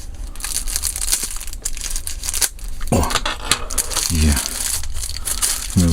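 Crinkly plastic wrapping taped around a new wallet rustles and crackles up close as the packaging is pulled open, with a few sharper tearing bursts near the end.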